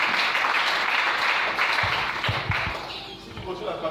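A church congregation applauds loudly, sustained dense clapping that thins toward the end, with voices mixed in beneath it.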